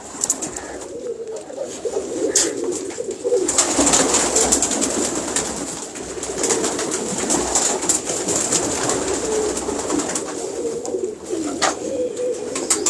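Pigeons of a fancier's breeding stock on a rooftop, giving steady, close, overlapping coos that continue without pause, with no voices.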